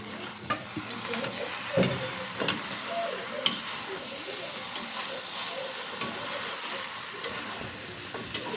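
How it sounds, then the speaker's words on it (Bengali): Potatoes and spiced betki fish sauté in a pan with a continuous crackling sizzle, broken by scattered sharp clicks and scrapes as a spatula stirs the food. "এবার আলুগুলো দিয়ে ভালো করে এবার কষাতে হবে"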